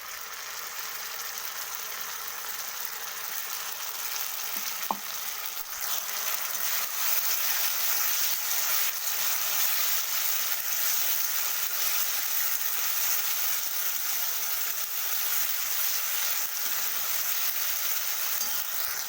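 Ground ginger-garlic and cashew-tomato paste frying in oil over onions for a chicken dish, a steady broad sizzle that swells louder after a brief clink partway through, fairly soft and with no speech.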